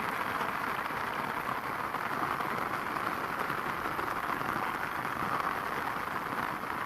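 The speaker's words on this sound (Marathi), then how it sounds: "पाऊस चालू आहे पाहू शकता तुम्ही" Steady rain falls on a fenugreek field in a constant, even patter, a dense hiss that stays the same throughout without any voices.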